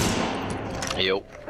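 Dense rapid gunfire crackles continuously in a loud battle in the video game The Division, with a voice briefly heard beneath the shooting.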